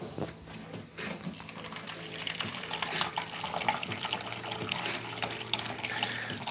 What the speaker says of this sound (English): we gonna go on over here to the nice little water dispenser we got